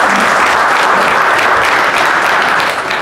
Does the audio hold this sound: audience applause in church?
yes